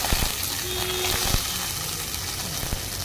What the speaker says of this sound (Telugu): ఇందులో ఆవాలు, జీలకర్ర, అలాగే ఎండుమిరపకాయలు, కొంచెం కరివేపాకు వేసి మంచిగా వేపండి